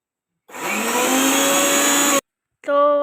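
A kitchen mixer grinder grinding a paste of ginger, garlic and green chili runs with a loud, high whirring whine for nearly two seconds, stops abruptly, then restarts briefly.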